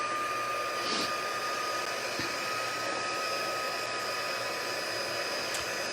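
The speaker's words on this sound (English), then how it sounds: "I'm ready to use the heat tool on it" A handheld heat tool used to melt embossing powder blows a continuous, even fan-and-heater whir with a faint tonal hum, close and steady throughout, with a couple of small clicks and no voices.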